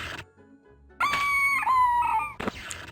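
A monster in the video game Pathways Into Darkness lets out shrill, chicken-like squawks: a short squeal, then a longer wavering crowing call and a final burst, loud and up close.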